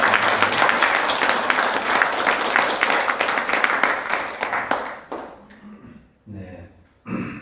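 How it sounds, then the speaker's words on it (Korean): A Korean church congregation at Sunday worship breaks into dense, steady clapping that fades after about five seconds, followed by a few scattered sounds and a voice near the end. "우리 박수 한번 하겠습니다."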